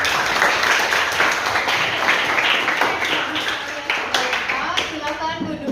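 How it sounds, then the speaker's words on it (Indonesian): Classroom applause after a group presentation, a close, lively patter of many hands clapping throughout, with voices talking over it. "Ya, tepuk tangan."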